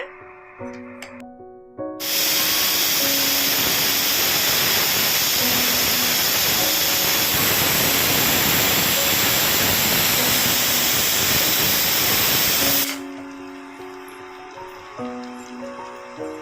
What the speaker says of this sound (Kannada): ಮುಚ್ಚಿ ಒಂದು 3 ಕೂಗು ಕೂಗಿಸ್ಕೊಳ್ಳೋಣ.